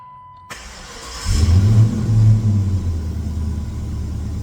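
A Gen III Hemi V8 fires up after a power upgrade, cranking briefly and then settling into a loud, close, slightly uneven rumbling idle.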